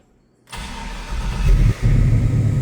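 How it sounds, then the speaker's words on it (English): A 1965 Chevrolet C10 fuel-injected pickup fires up after its electric fuel pump primes: silence, then the engine catches with a loud burst and settles into a rough, throaty idle with a brief dip and rev, close by. "Key on, you hear electric fuel pump."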